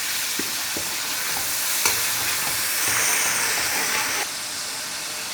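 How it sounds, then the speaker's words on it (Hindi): Potato and eggplant masala frying in a pan as water is added, giving a steady close sizzle and steamy hiss with occasional stirring scrapes and clinks, no voices. "अब थोड़ा सा मैं इसके अंदर डालूँगी पानी, क्योंकि लहसुन अदरक का कच्चापन अच्छे तरीके से दूर हो जाए।"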